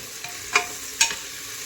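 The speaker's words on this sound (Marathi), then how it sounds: "थोडं तळसून घेते" Spices sautéing in a pan for a masoor pulao, a steady soft sizzle with two brief louder stirring scrapes, close and alone with no talking.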